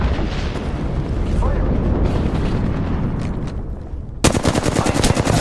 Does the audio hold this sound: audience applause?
no